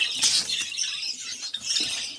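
Rapid fluttering of Java sparrows' wings in a breeding cage, in bursts, close and fairly quiet, with faint chirps mixed in.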